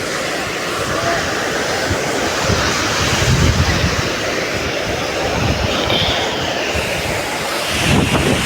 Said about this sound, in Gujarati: હવે દરિયાની મોજ જુઓ। દરિયો તો જુઓ તમે ખાલી।